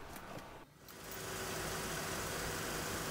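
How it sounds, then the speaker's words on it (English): A car with KE-Jetronic fuel injection and its air filter installed cranks briefly, then settles into a steady, close idle whose constant broadband engine drone runs alone to the end. "I will start the engine and let's do some tests."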